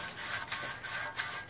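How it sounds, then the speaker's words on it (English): Sandpaper rubbed by hand to clear paint from control arm bushing holes on a G-body car, a close, steady back-and-forth scratchy rasp in short repeated strokes, with no talking. "I'm going to sand those down prior to me trying to assemble"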